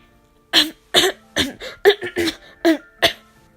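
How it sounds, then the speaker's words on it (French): A person coughs and clears their throat in a rapid string of about eight harsh, close bursts, with nothing else heard. "je vais tousser"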